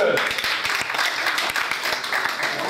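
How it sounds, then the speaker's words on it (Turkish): An audience claps and applauds at a reader-writer meeting at a cultural arts event in Eyüp. A steady, dense patter of many hands fills the room for a few seconds, with voices faintly mixed in. "Onları alkışlıyoruz."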